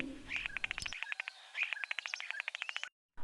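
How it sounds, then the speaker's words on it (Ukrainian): A common starling sings a rapid run of sharp clicks, chirps and squeaky whistles at close range, pausing once briefly, then breaking off. "Іноді голос шпака дуже ніжний, а іноді трохи рипучий та різкий."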